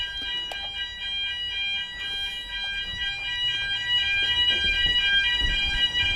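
A fire alarm sounding steadily during fault finding in central London, a loud continuous electronic tone with a faint background rumble.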